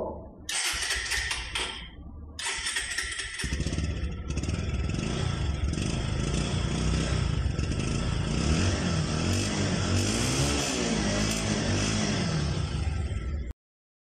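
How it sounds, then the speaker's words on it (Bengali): A Bajaj Pulsar 150cc single-disc motorcycle with 18,322 km on it starts up and idles steadily close by, after a few clatters and brief revs, then cuts off abruptly. "তো আপনারা বাইকটির সাউন্ডটা শুনলেন, সাউন্ড কিন্তু খুবই স্মুথ আছে"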